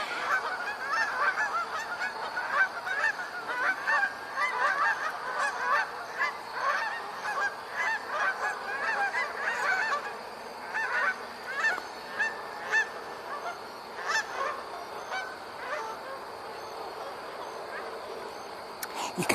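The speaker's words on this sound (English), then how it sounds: "You can see Canada geese all day long, and you know, fine, but it's special to see them come in here to roost on the pond." Canada geese honk repeatedly as they fly in to roost on a pond, a loud, overlapping chorus of nasal calls that carries on steadily over the whole stretch, with no talk over it.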